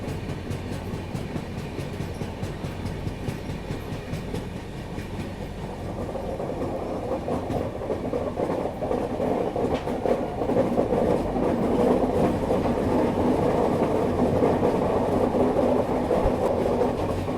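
The Rapti Sagar Express 12591 rolls along a curve on the Wadi bypass line, heard from inside as a steady, loud rumble with faint rhythmic wheel clatter that grows slightly heavier as the train travels on.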